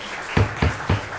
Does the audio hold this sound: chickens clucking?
no